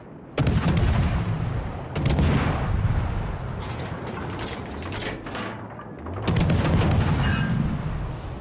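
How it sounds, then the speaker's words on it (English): Heavy warship main guns boom in a naval battle in World of Warships: Legends, with three loud salvos each rolling into a long rumbling decay and mechanical clatter between them. "All stations, requesting fire on the designated target."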